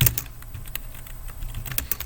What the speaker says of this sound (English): Why am I talking when I'm typing?